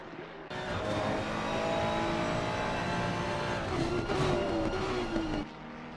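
A race car engine roars loud and steady past the Stowe corner at Silverstone in a racing video game, pitch shifting as it passes, with no talk over it.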